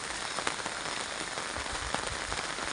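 Steady rain pours down during rice-seedling planting in a field, a dense hiss of drops striking water and ground with occasional louder spatters, continuous and close throughout.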